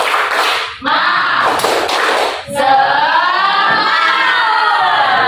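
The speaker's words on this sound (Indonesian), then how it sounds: "Ayo, tepuk semangat." A group claps together in quick, rhythmic bursts, followed by children's voices shouting along in unison; close and lively.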